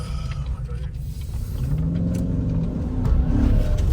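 Truck engine on a hard pull, low rumbling drone that swells and rises in pitch toward the end, steady and close with no voices.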